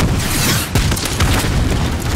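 Enemy helicopter blown up in Call of Duty: Modern Warfare (2019), a loud close boom rolling into a dense, rumbling explosion roar with crackling debris, no voices.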